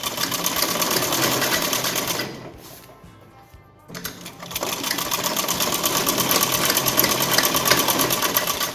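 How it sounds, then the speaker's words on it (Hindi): A sewing machine runs steadily, stitching a straight seam on churidar pajami fabric, pausing briefly midway before resuming its fast, even whir. "इसकी सिलाई हम इधर से इधर ऐसे स्ट्रेट सिलाई कर देंगे।"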